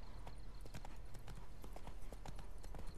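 Horse hooves clip-clop at a steady trotting rhythm, crisp and close, with a low hum underneath, from the video game The Witcher 3.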